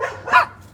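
A single short dog bark or yip, fairly loud and close, in a quiet room with faint background hum and no talking.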